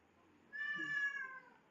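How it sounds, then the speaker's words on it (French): A house cat gives a single drawn-out meow, fairly close but soft, in an otherwise quiet indoor room during a makeup product review. "désolée si vous entendez miauler"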